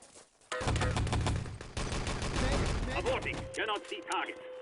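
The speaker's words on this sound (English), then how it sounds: "Kind of standard rifle shots, let's be honest, but at the same time, gotta hit them." Rifle fire and rifle grenade blasts from an Enemy Territory 6v6 LAN tournament match, arriving as rapid overlapping gunshots and bursts over several seconds, with a commentator talking over the game sounds.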